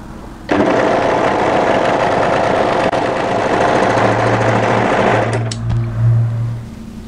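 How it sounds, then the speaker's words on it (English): An overlocker sews the short edge of a piece of lining fabric, a loud, steady mechanical whir that runs without a break for about five seconds and then winds down, with no speech. "place it right sides together and overlock the short edge as well"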